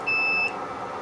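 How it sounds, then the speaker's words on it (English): BGA rework machine reaching about 220 degrees gives one clear, steady electronic beep lasting roughly half a second, then a soft hum of background noise. "We're at about 220, so our machine's going to beep"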